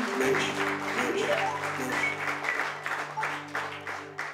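A church congregation applauds loudly and continuously, with dense clapping and a sustained musical tone underneath.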